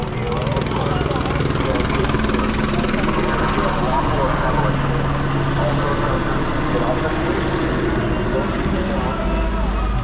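Continuous thumping helicopter rotor noise fills the air, loud and steady overhead during a federal raid and protest clash in Los Angeles, with crowd sound and voices mixed underneath.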